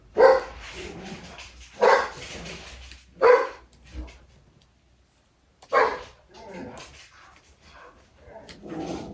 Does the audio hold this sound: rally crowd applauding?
no